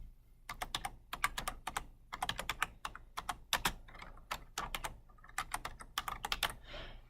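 Fingers type on a computer keyboard, rapid bursts of crisp key clicks in uneven clusters with brief pauses, close and fairly loud, with no talking.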